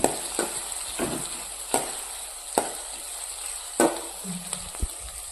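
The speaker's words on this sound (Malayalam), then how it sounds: "അതിങ്ങനെ ഉള്ളി വരട്ടുന്നുണ്ട്." Chopped onions sautéing in coconut oil in a pan, a steady low sizzle broken by several sharp scraping stirs at irregular intervals, close and moderately loud with no talk.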